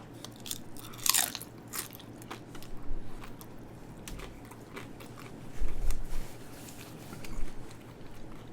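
Crisp tortilla chips topped as nachos crunch in a series of sharp bites, loud and close, with quieter chewing between them.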